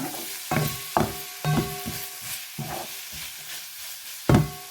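Long-cut green chillies sautéing in a pan, with knocks and scrapes of a spoon in an uneven rhythm over a faint sizzle.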